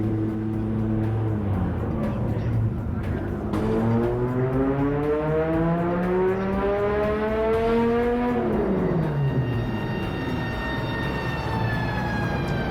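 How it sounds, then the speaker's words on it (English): A big Detroit push-rod V10 revs up in a long rising pull, its tone climbing steadily before dropping off and rising again, loud and close with a steady rumble beneath. "This is big Detroit iron V10."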